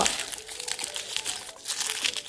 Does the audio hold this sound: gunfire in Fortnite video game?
no